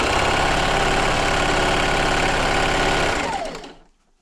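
A sewing machine runs steadily while stitching 2 1/2 inch fabric strips for a table runner, sometimes sewing straight over pins, with a fast even whir for about three seconds before winding down to silence.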